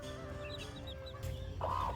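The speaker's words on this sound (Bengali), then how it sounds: "আজকে দুপুরেও আমার মুরগিদের চালের খুদ খেতে দিয়েছি" Chickens cluck softly nearby while eating broken rice, a few short calls over a low steady background murmur.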